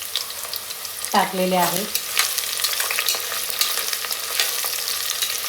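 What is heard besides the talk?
whole onions frying and being stirred for chicken pulao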